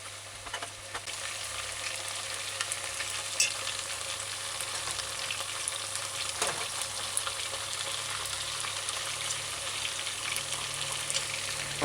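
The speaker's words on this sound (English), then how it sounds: "I'm not deep frying them. I'm just frying" Steady, gentle sizzling of chicken pan-frying, not deep-fried, continues throughout, with occasional soft pops and light scraping sounds.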